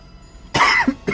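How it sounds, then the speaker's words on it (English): Coughing in a cutscene of the Yu-Gi-Oh! Forbidden Memories video game: two sharp, close coughs in quick succession with a short gap between them, loud and without any talk. "I guess the coughing was appropriate for Simon's line."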